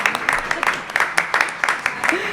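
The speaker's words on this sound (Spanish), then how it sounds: "Si queréis podéis darme un aplausito para animarme." An audience claps to encourage a nervous speaker at a talk on media practices and citizen participation, with steady broadband applause running through the whole span, fairly close, and some voices mixed in.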